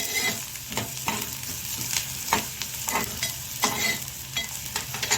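Onion and green chili sautéing in a pan for vangyache bharit, a steady close sizzle with repeated scraping stirs of a spatula breaking through at a regular rhythm, no voices.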